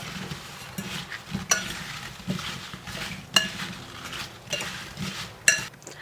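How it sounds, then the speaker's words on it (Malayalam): Apple pie filling with ground cinnamon is mixed by hand. A spoon scrapes and stirs in a bowl, giving soft rhythmic swishes punctuated by several sharper clinks against the side, with no talking. "ഇതെല്ലാം കൂടി ഒന്ന് നന്നായിട്ട് മിക്സ് ചെയ്തെടുക്കാം."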